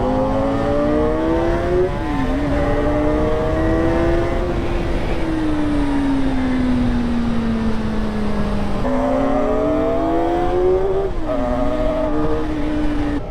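A Kawasaki sports motorcycle accelerates hard in a roll-on, its loud engine note climbing steadily through gears with brief dips at each shift, heard close and continuous.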